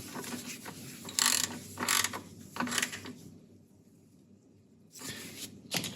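A ratcheting wrench snugs up a loose belt adjuster nut on a VW power steering pump, making several quick bursts of close clicking separated by brief pauses.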